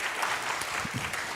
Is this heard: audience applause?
yes